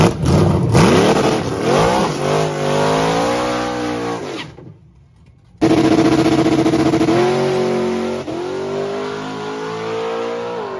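A methanol-fuelled drag race car on bias-ply tyres roars down the track, a loud engine climbing through gear changes, cutting out briefly, then howling on again at high revs.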